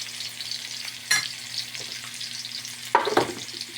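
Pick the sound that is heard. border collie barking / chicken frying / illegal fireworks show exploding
chicken frying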